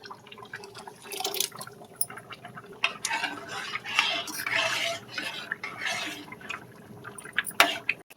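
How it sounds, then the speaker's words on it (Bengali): Milk poured into a pot of boiling semolina on the stove, a close, soft liquid splashing and gurgling mixed with clinks of a spoon against the cookware. "সুজিটা আমার ফুটে গেছে, আমি এই দুধটা ঢেলে দেবো।"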